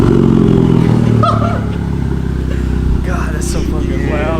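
A Hyundai Veloster Turbo with a catless downpipe gives off a loud, rumbling exhaust drone that dips slightly partway through, close by, while voices talk over it.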